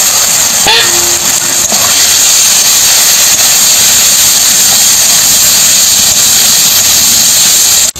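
Fried soybean chunks and potato hit sizzling masala in a hot pan, setting off a loud, continuous frying hiss that fills the whole stretch with a steady, close roar.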